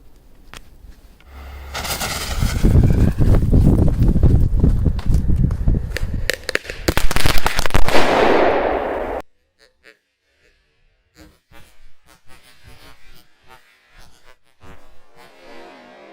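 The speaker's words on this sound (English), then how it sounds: "Let's throw small firecrackers from above and see what happens." Small firecrackers thrown from above burst at night in a rapid, loud crackling string lasting several seconds, then give way to near silence with faint scattered pops and clicks.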